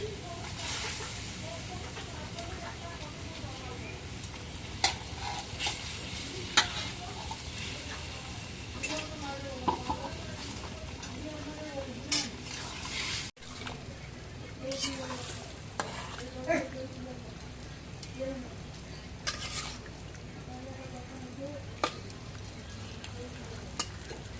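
Mirka fish goes into a pan of spiced masala and fries with a continuous hiss and sizzle, while a utensil stirs and scrapes now and then with clinks and knocks. People talk intermittently throughout.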